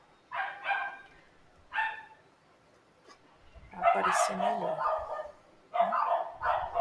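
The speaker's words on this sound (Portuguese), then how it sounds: "olha a cachorrada latindo" Several dogs bark in bursts at a distance, scattered yaps and woofs rising into a denser chorus, heard alongside someone talking nearby.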